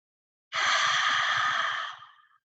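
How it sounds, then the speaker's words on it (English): A long, slow exhale through the mouth sounds close and steady as a soft sigh. It lasts nearly two seconds, then fades out, with no talking over it. "breathing out through your mouth in kind of a sighing sound really is very deeply relaxing"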